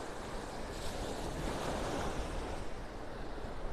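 Ocean surf breaks along a beach in North Naples, Florida, making a steady, broad wash of waves with a touch of wind noise. No one speaks.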